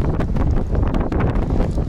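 Strong wind buffets the microphone at a cricket stadium in Pakistan, in a steady, loud roar with gusty low rumbling throughout.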